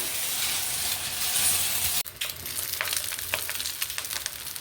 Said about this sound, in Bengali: এই যে মা ডিম ভাজছে এই চাউমিনে দেবে বলে।